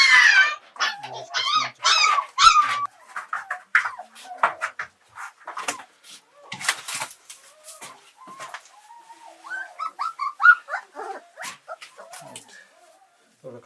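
Hunting laika dogs at a kennel give short barks and whimpers mixed with birdlike chirps, scattered through the clip while people talk nearby.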